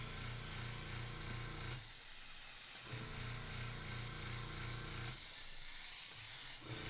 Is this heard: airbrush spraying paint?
yes